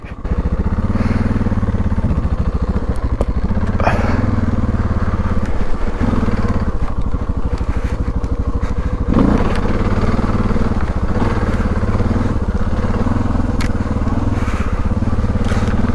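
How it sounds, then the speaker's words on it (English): A motorcycle idles steadily while warming up in a forest parking lot at a remote Lake Ontario campsite, giving a loud, close, continuous low rumble with a few faint clanks over it. "So letting the bike warm up."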